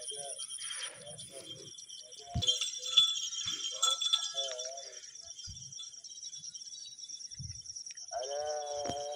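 Fat-tailed sheep bleat a few times amid a noisy outdoor scene in rice fields, with a louder wavering bleat near the end and bits of background chatter.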